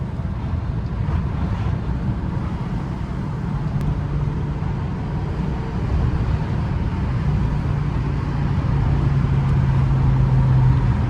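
A BMW M5 E60 accelerates through Toronto city traffic, its engine a steady low roar that builds slightly under heavy wind and road noise inside the car.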